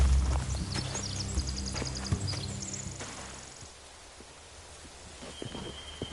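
Video game horses clip-clop and shuffle with rustling nearby, a busy outdoor bustle that gradually thins out.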